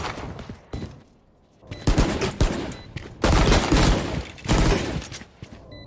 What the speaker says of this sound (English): Picking up the Bulldog. Guess I'm trying to get a few shots with that burst fire mode.